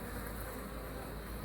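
Honeybees buzzing steadily at the hive entrance as they bring in gold and white pollen, a dense continuous drone of many insects close by with no voices.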